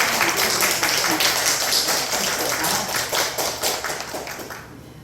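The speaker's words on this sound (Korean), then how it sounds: "박수 한번" A church congregation breaks into dense, lively applause that rings out for several seconds and then fades.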